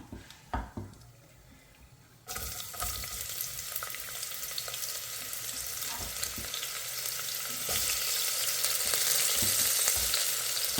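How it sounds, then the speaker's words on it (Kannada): Sliced onions sizzle loudly in hot oil for pulao, a sharp hiss that jumps in after a few quiet taps and then holds steady and grows brighter, with occasional stirring scrapes and no talking. "ಈಗ ಈರುಳ್ಳಿ ಕೂಡ ಹಾಕ್ಕೊಂಬಿಡೋಣ"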